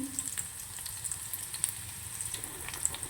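Chopped onions sizzling in a pan for Maggi noodles, a soft steady frying hiss with faint crackles and light pops, close and fairly quiet.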